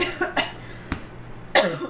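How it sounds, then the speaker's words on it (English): A single sharp cough near the mic, set between a few soft vocal sounds and breaths, with a second rougher cough-like burst near the end. "I can't say cough without coughing"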